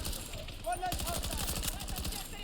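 Rapid automatic gunfire from a video game rattles in a fast, even stream of shots through most of the moment, loud and close after a brief lead-in.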